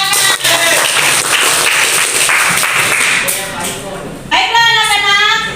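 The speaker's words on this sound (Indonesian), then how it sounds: "Tepuk tangan." Children in a classroom clap their hands together in a burst of rapid applause, followed by a voice speaking over fading claps near the end.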